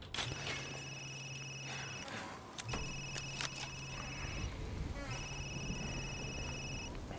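A synthetic mobile phone ringtone in Resident Evil Village repeats in three bursts of warbling tones, with a low buzz under each, over busy game noise and background sounds.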